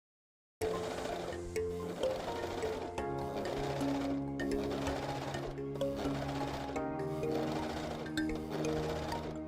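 Gritzner 788 sewing machine stitches an elastic band onto fabric in a fast, steady mechanical whir with rhythmic needle clatter, starting after a brief silence and running in several short bursts.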